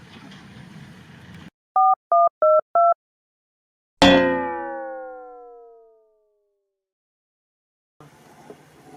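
Telephone dialing a busy number: four short repeated electronic beeps, then a single sharp tone ringing out and fading over about two seconds, with quiet background noise before and after.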